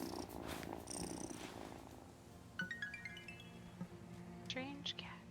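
A cat purring while getting head scratches in the video game Wylde Flowers, a quiet low rumble beneath soft game chimes and twinkling effects, faint and close, with a voice murmuring over it.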